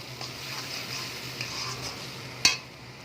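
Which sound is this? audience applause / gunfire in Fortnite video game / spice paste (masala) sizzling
spice paste (masala) sizzling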